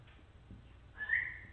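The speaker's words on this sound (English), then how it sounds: "When his roommate whistles to his dog. Okay. But then immediately, someone or something else whistles back." A person whistles to a dog indoors, then a short, clear answering whistle follows, faint at first and then a louder single tone near the end.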